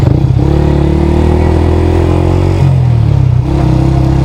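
A Yamaha YZF-R125 motorcycle is ridden along, its loud, close engine drone holding steady and then dipping and rising again as the rider shifts through the gears.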